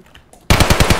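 Rapid automatic gunfire in the video game Escape from Tarkov bursts in loud and close after half a second of near silence, a steady run of evenly spaced shots.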